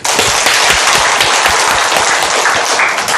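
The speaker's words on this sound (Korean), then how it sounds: "박수로 하나님께 영광." A church congregation claps together in loud, dense applause during a Sunday worship service that fills the whole moment without pause.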